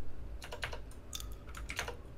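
Rapid typing on a computer keyboard during an online drawing game, with irregular bursts of key clicks close to the microphone over a low background hum, no voices.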